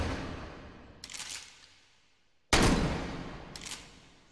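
Shotgun blasts in the VR shooting game H3VR, two loud booming shots about a second and a half apart, each with a crisp metallic clack of the action shortly after, and reverberant tails between.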